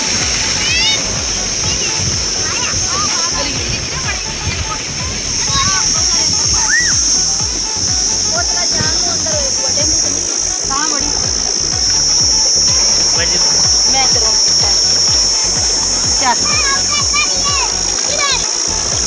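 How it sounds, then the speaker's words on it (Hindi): A child splashing and playing in water on a hot afternoon near a mosque, with uneven sloshes and splashes close by under continual talking and children's voices, plus a constant rushing flow of water behind. "ये अली बाबा खेल रहा है पानी में"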